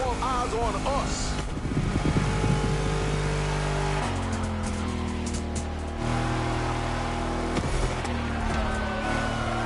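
Car engines rev and roar in the racing video game The Crew Motorfest, set on Oahu, Hawaii. Sustained engine drones shift pitch through gear changes, with a person talking over them.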